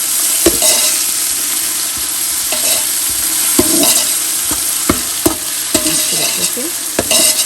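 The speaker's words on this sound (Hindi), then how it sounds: "बस अदरक लहसुन का पेस्ट डाला, बस थोड़ा सा जब वो फ्राई हो जाएगा" Ginger garlic paste and onions sizzle and fry steadily in a pan, with sharp spoon scrapes and taps against the metal every second or so; a brief voice speaks over the cooking.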